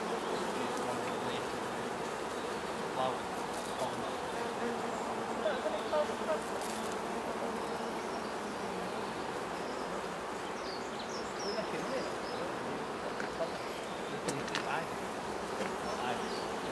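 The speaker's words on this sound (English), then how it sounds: "All these bees on here." Hundreds of bees swarming over flowering ground ivy outdoors, a dense, faint, continuous buzzing drone filling the whole scene without a break.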